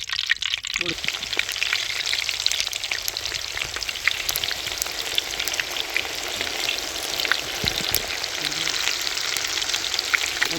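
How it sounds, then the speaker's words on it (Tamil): Raw jackfruit kebabs deep fry in hot oil, a loud continuous close sizzle and bubbling crackle that persists evenly throughout. "எண்ணெய் நல்லா சூடாயிருச்சு போட்டு எடுக்கிறோண்ணே"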